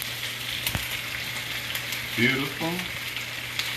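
Onions, snow peas and mushrooms stir-fry in garlic oil in a hot pan, giving a steady close sizzle and hiss with occasional stirring clinks while someone speaks briefly over it.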